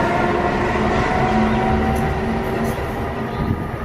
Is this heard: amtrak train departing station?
yes